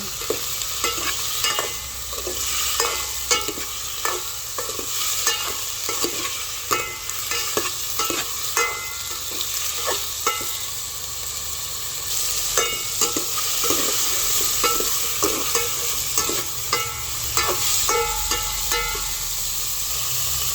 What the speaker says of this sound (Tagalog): Lulutuin po muna natin itong hipon.